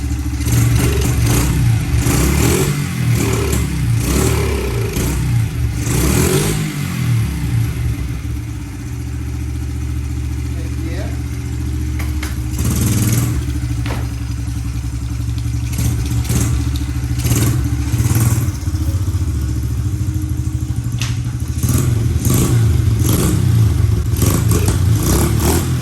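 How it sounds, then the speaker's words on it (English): A Honda XR70 dirt bike engine running with its carburetor making a sucking noise, a close, loud, uneven idle with clattering and occasional revs throughout. "You know, carburetor makes a little noise."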